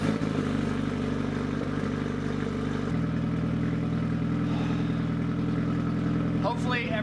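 An SR20-swapped Mazda Miata engine idles steadily as it warms up, a close, constant low drone with a slight step in pitch partway through and a brief higher clatter near the end.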